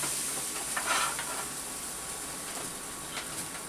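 A grilled cheese sandwich frying in a pan, giving a soft, steady sizzle with a few light scrapes and shifts as the pan is handled. No one speaks.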